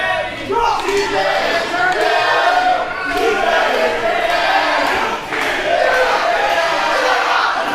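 A pro wrestling crowd chants loudly and rhythmically at a live show, voices massed together in a steady roar that dips briefly and then surges back.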